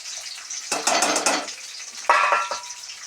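Sliced onions hit hot oil in a pan for a chicken curry with broad bean seeds. Two bursts of sizzling and stirring rise over a quiet crackle, with a brief metallic scrape, close by and without talk.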